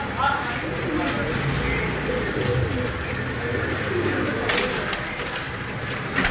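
Pigeons, kept for sale in Sialkot, cooing steadily nearby, someone talking over them and some general outdoor background noise.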